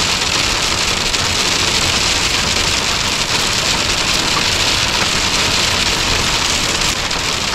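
Constant hard drumming of hail on a caravan, loud and unbroken, with a low background rumble of thunder.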